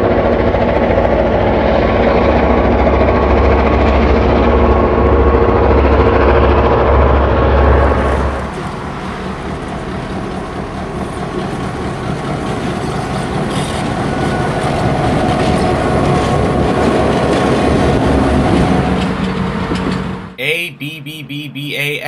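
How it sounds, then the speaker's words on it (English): A freight train led by seven F unit diesel locomotives heads into Dunsmuir on the Shasta Route, with a heavy, continuous engine roar and rumble that shifts in tone partway through and ends in a sharp clattering burst. "Give quick chase to this freight into Dunsmuir with this massive lashup of 7 F units at the head"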